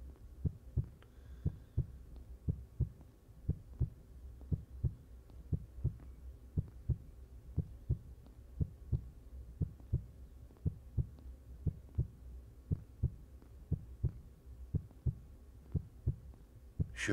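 A slow, steady heartbeat thumps in the survival horror video game The Red Exile, regular low pulses repeating for the whole stretch over a faint hum, with no talking.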